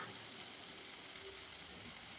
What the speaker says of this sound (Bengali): এখন আমি নেড়ে চেড়ে দিচ্ছি, আর পেঁয়াজটা ভাজা হয়ে গেছে।